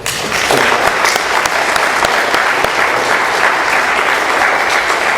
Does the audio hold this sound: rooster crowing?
no